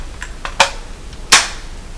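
A Top M4 EBB gas blowback airsoft rifle fires, giving two sharp, close cracks with a few fainter clicks around them, spaced under a second apart.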